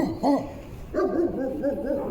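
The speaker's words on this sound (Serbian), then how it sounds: "pušten je ovakav pas slobodno da se kreće" A loose dog that roams freely gives a few short, close barks and whiny yelps in quick succession.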